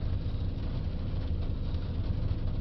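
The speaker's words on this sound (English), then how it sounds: "so now the engine's idling" A Ford Transit Connect 1.5 engine idling, a low continuous rumble with steady churning texture, moderately quiet and even throughout, with no talk over it.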